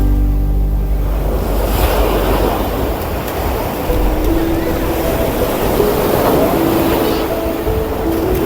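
Sea waves wash onto the shore in a steady, loud roar, with wind buffeting the microphone and children playing in the water somewhere nearby.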